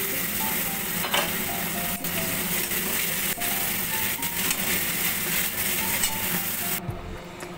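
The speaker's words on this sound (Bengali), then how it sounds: "এবার পেঁয়াজ বাটাটা দিচ্ছি।" Onion paste frying in a pan, a dense steady sizzle with scattered scraping stirs and light clinks, loud and close throughout.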